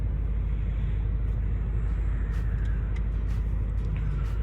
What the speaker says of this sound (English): I'm going to be driving the Audi